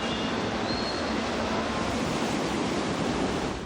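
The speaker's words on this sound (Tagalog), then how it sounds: "Maya-maya, bumulwak na ang tubig sa kalsada galing sa binahang basement." Floodwater gushes onto a street from a flooded basement as it is pumped out, making a loud, steady, close rushing roar with no pauses and no voices.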